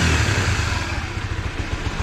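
A Honda Winner v1 motorcycle engine runs close by with a throaty, pulsing idle and slight revving, the loudness dipping and surging in quick uneven beats.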